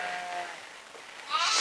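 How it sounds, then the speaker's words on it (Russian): A Romanov sheep ram bleats once, a drawn-out nasal call rising near the end, heard fairly close at a farm. "вот он, пришел наглый самый, да? Баранчик такой."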